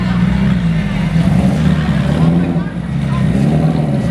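A Honda NSX supercar engine rumbles at a car event, a steady, loud, low drone with some rise and fall, heard close and continuously throughout.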